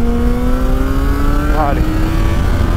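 A 2005 Yamaha FZ6 600cc motorcycle being ridden, its engine holding a steady, rising drone that sweeps up in pitch under heavy wind roar, with a brief pitch wobble as revs change, and a rider speaking briefly.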